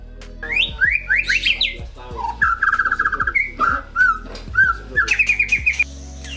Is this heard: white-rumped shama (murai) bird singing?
yes